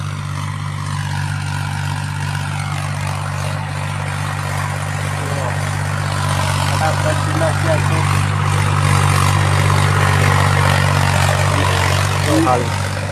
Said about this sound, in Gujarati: એટલે શેરવા મંડી ગયું છે ટ્રેક્ટર